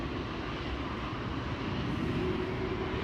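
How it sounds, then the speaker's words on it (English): Steady broadband jet roar of an Air Europa Dreamliner bound for Madrid taking off from runway 18 Left at Amsterdam Schiphol, distant and constant with no talk. "Air Europa Dreamliner to Madrid will be taking off via 18 left as well."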